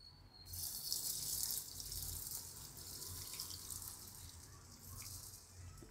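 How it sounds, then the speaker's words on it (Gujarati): Water poured into a pan of cocoa powder and sugar for chocolate syrup, a steady hissing stream from the start that softens slightly but keeps running throughout. "નામાં આપણે પાણી નાખી દેવું."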